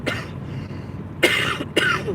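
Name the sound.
cough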